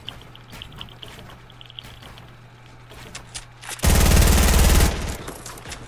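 Gunfire in Fortnite Battle Royale: a quiet stretch of game ambience, then one loud, dense burst of rapid shots lasting about a second before it drops back to low background.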